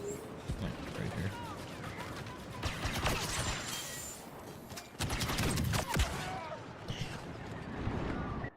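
Covering gunfire in the Star Wars Battlefront II video game: dense, continuous blaster and rifle fire with bursts and explosions across the whole stretch, mixed with game voices calling out.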